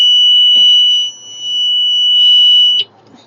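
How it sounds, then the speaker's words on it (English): A jump starter's reverse-polarity alarm sounds a shrill, steady high-pitched tone. It drops out briefly, resumes for over a second and then cuts off, with faint handling noise and no voices. "What you'll notice is an alarm will go off"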